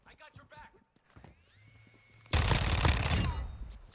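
A short, rapid burst of Fennec submachine gun fire in Modern Warfare 2, loud and close, following scattered quieter game noises and a brief voice.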